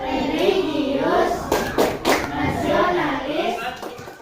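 Rhythmic group clapping chant in a classroom, a few bursts of claps woven between children's chanting voices, close and fairly loud.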